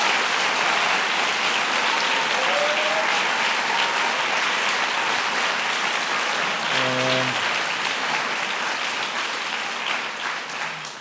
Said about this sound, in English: I want to give all those educators, counselors, and community members a big round of applause